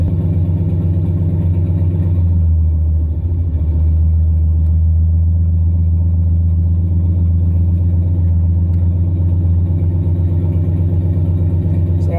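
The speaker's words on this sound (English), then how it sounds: "So that's actually where the engine is running." A turbocharged LQ4 V8 swapped into a Ford Ranger runs at a steady idle, a loud, continuous low rumble heard up close throughout, with no notable revving.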